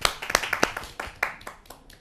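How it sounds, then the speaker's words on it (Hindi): An audience claps to welcome a poet at a Delhi kavi sammelan, a burst of several sharp, fairly close hand claps thinning out into scattered separate claps over about two seconds. "आइए स्वागत करते हैं उनका एक जोरदार तालियों से"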